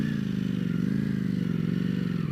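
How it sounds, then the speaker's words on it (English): A Ducati Panigale V4 Speciale being ridden, its engine a steady, loud, throbbing drone with constant wind rush and no talk. "joyous ride on the Panigale V4 Speciale"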